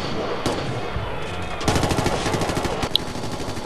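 Gunfire in the shooter game Ghost Recon Future Soldier: a sharp shot, then rapid automatic bursts in quick succession, loud and close, with a voice faintly underneath.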